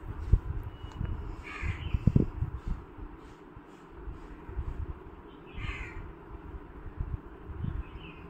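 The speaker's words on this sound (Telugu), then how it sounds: "ఆ కాకి కూడా చూసారా" A crow in a home vegetable garden caws several times at moderate distance, its harsh calls rising over a low, steady outdoor background.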